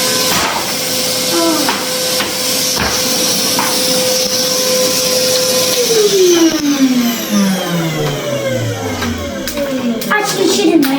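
A vacuum cleaner runs loud and steady as building mess is cleaned up, its motor note sliding down in pitch partway through while a person talks over it.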